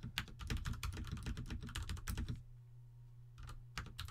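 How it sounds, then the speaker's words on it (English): Rapid, close typing on a computer keyboard, a dense run of crisp key clicks that pauses briefly, then resumes with a few more taps. "so I'll just type something in here."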